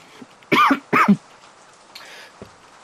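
A person with a lingering cough from the past week lets out two sharp, close coughs in quick succession, followed by a quieter throat sound, with no talking.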